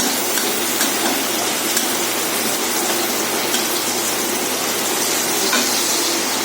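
A heavy monsoon-style downpour falls outside, a dense, even, loud hiss of rain that holds steady with no breaks and no voices.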